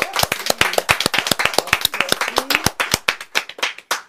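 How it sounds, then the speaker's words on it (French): Women in a television studio audience on a Mother's Day talk show applaud themselves, a close, loud burst of distinct sharp claps from a small group in quick rhythm, with a faint voice underneath. "Applaudissez-vous, vous êtes toutes belles"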